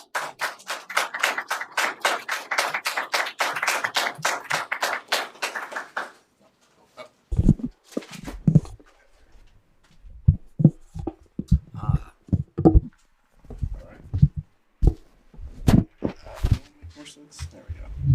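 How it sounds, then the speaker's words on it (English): An audience claps for conference panelists, a brief burst of many hands that fades out within about six seconds, followed by sparse taps, knocks and small handling noises in a quiet room. "can we get a warm round of applause for our panelists?"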